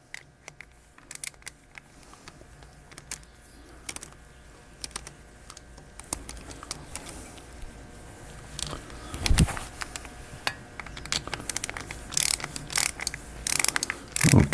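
A clamp on a Harley-Davidson Shovelhead intake manifold being tightened by hand, with close, irregular ratcheting clicks and small metallic taps that grow a little denser and louder toward the end. Nobody speaks.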